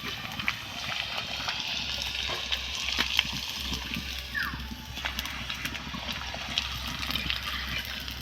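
Papad made from wheat flour frying in hot oil, a steady, dense bubbling hiss with scattered crackles and pops running the whole time at moderate loudness.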